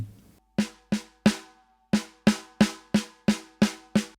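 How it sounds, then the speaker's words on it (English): Dry snare drum strikes from a hardcore mix, before EQ and compression, play solo, ten hits with quick decays in a steady groove, a short gap after the first three. "I used the original snare sound"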